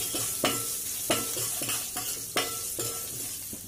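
Curry leaves and turmeric are stirred into hot frying seasoning in a pan for poha pulihora, the steady sizzle broken by about six scraping stirs at a regular pace, close and moderately loud.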